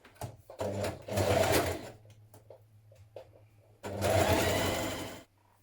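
A sewing machine stitching a shoulder seam in stretch fabric for a hoodie, running in two close bursts of whirring stitches with a low motor hum and quiet pauses between them, no talking.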